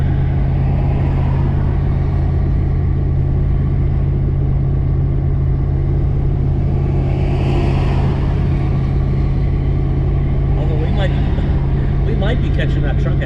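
A tired engine in a small car labored steadily on a highway in Oregon heading toward California, a constant low drone and rumble filling the whole stretch while a person talks over it.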